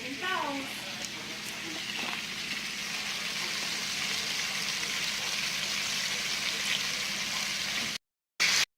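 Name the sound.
bacon frying in a pan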